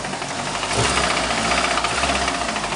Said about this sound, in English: it destroyed the engine and started it knocking